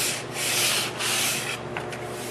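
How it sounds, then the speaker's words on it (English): Fine sandpaper rubs over pine chair pieces in close, steady strokes, a loud scratchy hiss rising and falling with each pass. "Now we're just taking some finer sandpaper and just get any fibers that we may have raised with the coarse sandpaper"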